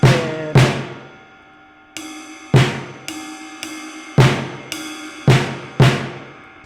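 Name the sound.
paradiddle groove split between ride cymbal and snare drum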